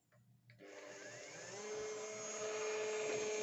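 Electric hand mixer whisking softened butter for gluten-free cupcakes, starting up after a few small knocks and building to a steady whirring drone that stays close and fairly quiet.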